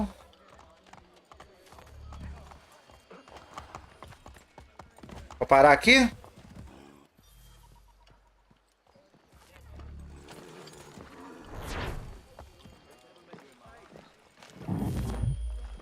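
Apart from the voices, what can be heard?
horse hooves galloping in video game Assassin's Creed III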